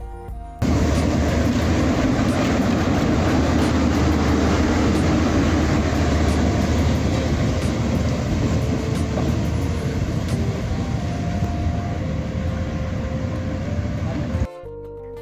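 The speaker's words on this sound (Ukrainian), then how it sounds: "По прибуттю на станцію робиться обгін тепловоза." A TU2 diesel locomotive runs with two passenger cars on a 750 mm narrow-gauge children's railway. A loud, steady rumble and clatter of the train continues close by, with a few brief tonal squeals, and then cuts off at the end.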